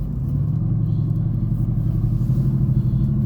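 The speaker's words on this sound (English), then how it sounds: "Come off the brake, a little bit of throttle." A Mercedes-AMG GT S pulls away gently on wet roads, its engine giving a low, steady rumble heard from inside the car with no voices.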